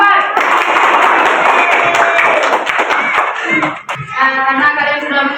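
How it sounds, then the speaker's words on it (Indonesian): Schoolchildren in a classroom at an Islamic primary school in Gorontalo, Indonesia, clap for group four in a dense, lively burst of applause that fades as voices start up near the end. "tepuk tangan untuk kelompok empat."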